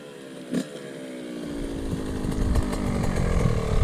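A Yamaha YZ 65 dirt bike ridden by a beginner learning to shift gears, a buzzing two-stroke engine rising in pitch as it revs and pulls away, growing louder, no voices.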